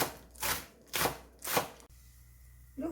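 A knife slices one stalk of green onion diagonally on a cutting board, making three close, crisp chopping strokes about half a second apart, followed by a brief quiet spell.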